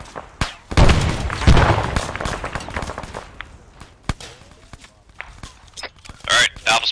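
A frag grenade goes off in ArmA3, a loud broadband blast that rumbles and decays over a second or two, followed by scattered thumps and distant shots.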